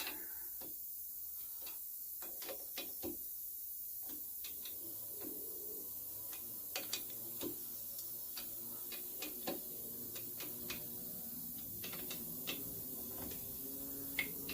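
A torque wrench tightening bolts on an old Kohler twin engine gives sharp, faint clicks scattered across the stretch in small bursts, quiet against a low background hum.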